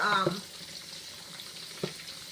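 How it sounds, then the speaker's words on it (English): Three fish steak slices frying in hot oil give a steady, close sizzling hiss, with a soft clatter at the start and a brief tap near the end. "So I'm going to put 3 slices in this oil. Okay, and let it fry."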